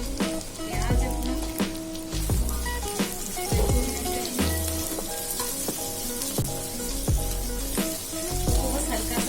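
Chopped onions sauté in a hot pan over medium-high flame for veg Manchurian, a constant bright sizzle broken by sharp clinks and scrapes of a spatula stirring every second or so.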